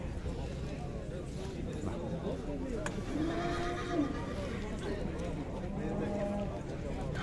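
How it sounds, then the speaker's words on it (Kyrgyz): Donchak mare brought from Moscow at a busy livestock market, a loud whinnying neigh rising out of dense crowd chatter and market noise, with people talking nearby. "Москвадан келген данчак бие дейт."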